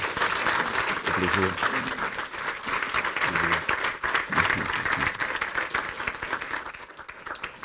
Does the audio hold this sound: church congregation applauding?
yes